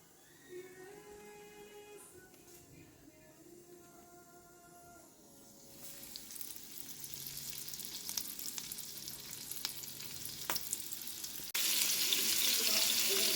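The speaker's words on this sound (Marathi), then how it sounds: "आता मी रवा फ्राय करायला टाकलेत" Semolina-coated fish pieces frying in a home kitchen pan produce a steady sizzle that swells louder partway through and jumps again near the end, with faint clinks and no talking.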